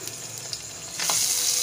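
Ginger sizzling in a hot frying pan as canned Maldivian tuna is prepared, a soft hiss that swells louder partway through, with no talking.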